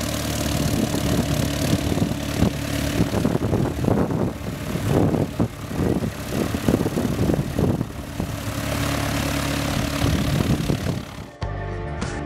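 A Mooney light aircraft's propeller engine taxies and departs, a steady droning hum with engine rumble that holds loud and close, then cuts off sharply near the end.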